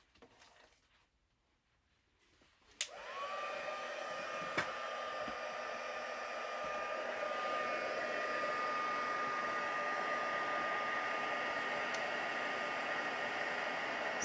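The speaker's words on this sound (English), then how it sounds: "we'll just use our heat tool to get that up" A heat tool switches on after a quiet moment and blows a steady, loud whooshing stream of hot air over a stamped card, with a faint whine riding on the rush.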